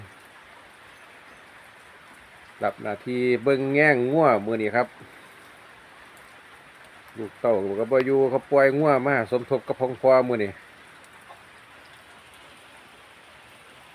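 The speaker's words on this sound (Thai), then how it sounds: "ฝนตกลิ้นครับพ่อแม่พี่น้อง" Steady rain falls in cold weather out in the countryside near cattle, a constant soft hiss throughout, with someone talking over it in two stretches.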